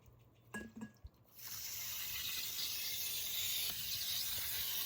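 Water from a garden hose pouring into a container, a steady hissing rush that starts after a second of small clicks and handling noises and runs on evenly and fairly close.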